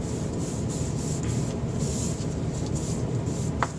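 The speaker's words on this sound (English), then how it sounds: "Literally just going to paint my paper." Soft, continuous brushing strokes sweep cyanotype solution across paper in a steady rhythm, a close and even swishing texture with one small click near the end.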